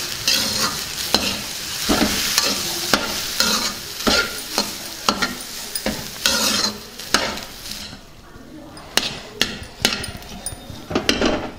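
Beetroot rice with coriander is stirred in a pan, with repeated scraping and clinking strokes of a spoon against metal at an irregular rhythm, close and fairly loud, with no talk.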